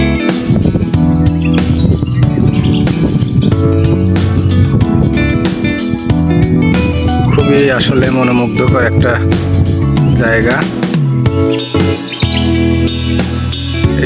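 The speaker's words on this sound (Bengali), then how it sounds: "চারদিকে শুধু পাখির ডাক আর পাখির ডাক।" Many birds chirp and sing all around in hills beside a flowing river, a loud, busy chorus of overlapping calls running throughout, with someone speaking over it.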